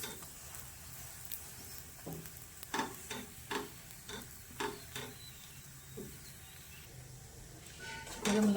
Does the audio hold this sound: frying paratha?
yes